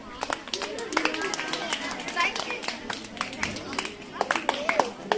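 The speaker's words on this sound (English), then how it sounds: "Give a big clap" Students at a government high school English club clap for classmates. The claps are scattered and uneven, mixed with chatter and talking voices in a room.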